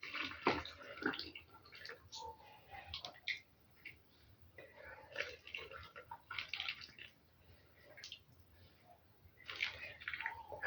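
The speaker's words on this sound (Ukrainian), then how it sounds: "І так всі зараз залью, заляла водою." Boiling water is poured from close by into jars of marinated cucumbers with zucchini, with intermittent splashing and trickling pours separated by short pauses and soft handling sounds.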